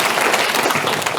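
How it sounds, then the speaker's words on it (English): Applause from a conference audience welcoming a speaker, a dense, steady wash of many hands clapping at full volume throughout. "a round of applause for Robert Fleischer."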